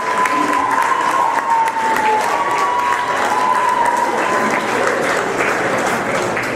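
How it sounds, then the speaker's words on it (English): Wedding reception guests applaud the bridal party with sustained, dense applause and some crowd noise, loud and continuous throughout, with a faint voice and tonal sound running underneath. "can we get another round of applause for our bridal party?"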